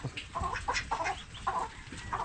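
A chicken clucks repeatedly in short, uneven bursts, fairly close, with faint background noise.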